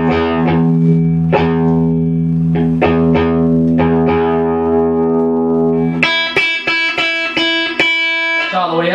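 Electric guitar played through a distorted 1974 MKII amplifier, sustained chords ringing thickly at first, then a run of sharp, bright staccato stabs, loud and close with no talking.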